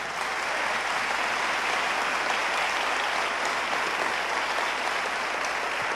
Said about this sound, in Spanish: Y un aplauso al Señor.